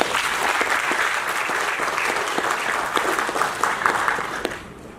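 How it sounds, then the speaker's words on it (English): An audience at an evening meditation seminar applauds steadily, a dense, sustained wash of many hands clapping at close range that fades out at the very end. "Let us clap for E.V."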